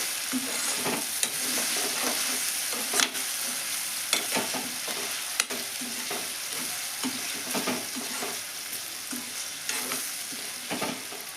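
Tomato pieces fry in oil in a pan, a continuous close sizzle with periodic stirring scrapes and light utensil taps throughout.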